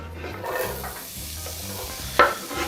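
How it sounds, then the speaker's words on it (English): Onions hitting hot oil in a pan for a Honduran meal, a close, steady sizzle with light stirring and one sharp metallic clink near the end. "Once our oil's heated up, we're gonna add our onions."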